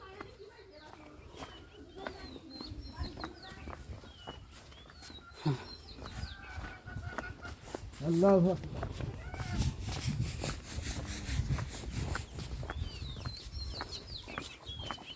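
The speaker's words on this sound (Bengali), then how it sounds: "মোরগ মুরগি খাইতেছে।" Chickens, roosters and hens, cluck while feeding near a cattle shed on a river char farm, with goats nearby; scattered bird calls run through steady talk and outdoor noise, with a louder burst midway.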